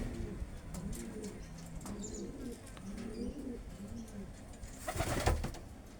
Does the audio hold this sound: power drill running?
no